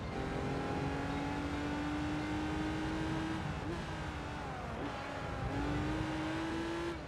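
Race car engines in Gran Turismo 3 on the PS2, a Pagani Zonda up against a Speedster, hold a steady high whine through the gears, with brief dips at upshifts as the pitch climbs again.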